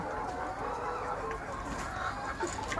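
Hens clucking faintly in a chicken farm's laying area, soft scattered calls over a steady hum of background noise.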